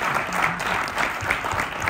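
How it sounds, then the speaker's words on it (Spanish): An audience gives steady, dense applause at a public talk, a continuous wash of many clapping hands heard fairly close without pause. "Y eso se merece un aplauso"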